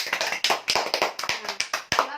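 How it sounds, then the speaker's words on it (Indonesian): A classroom of students claps for group 1, brisk rhythmic hand claps close by, about a dozen quick beats in under three seconds. "beri tepuk tangan untuk kelompok 1"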